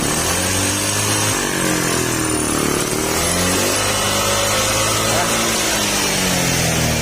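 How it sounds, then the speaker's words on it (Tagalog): A Honda Click 125 scooter engine runs loud and close while its intake is sprayed during cleaning, revving up and down steadily throughout with a rough, buzzing tone. "kailangan pa natin biritin habang ini-spray nyo kasi mamamatay yung makina"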